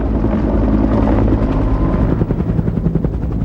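A UH-1 Huey helicopter thumps steadily with loud, close rotor chop over a dense engine roar, the blade beat sharpening toward the end.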